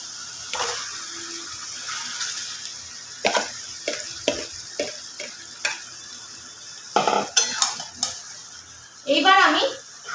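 Marinated chicken for chicken kosha goes into hot oil in a pan, giving a steady low sizzle broken by sharp, irregular scraping and clinking stirring strokes, with a louder burst of sizzling and scraping near the end.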